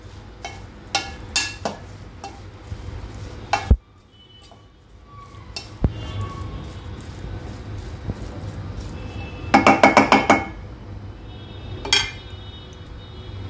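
Metal utensils clink and scrape against a pot while mixing dried shrimp, brinjal, tomatoes and oil, in bursts, with a cluster of rapid clattering strikes near the end, no voices.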